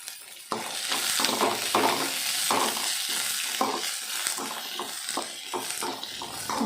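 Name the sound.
cinnamon and cloves frying in a pan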